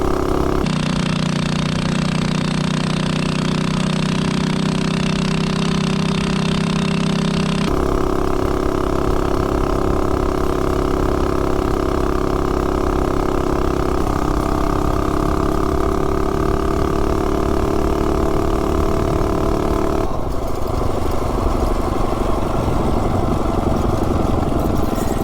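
A small engine held at wide open throttle with a 60 sprocket drones loudly and steadily, its pitch stepping and shifting a few times as the machine slowly gains speed, close with no talk.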